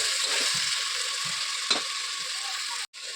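Ground masala fries in hot oil with a loud, steady hiss, a few soft knocks underneath and one spoon tap, cutting out briefly near the end; no talking.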